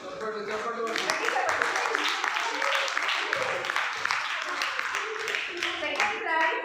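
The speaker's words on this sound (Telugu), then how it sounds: "చప్పట్లు, చప్పట్లు కొట్టండి." Audience applause at a church Vacation Bible School final-day prize ceremony in Tekulapally, steady dense clapping throughout with children's voices and chatter mixed in.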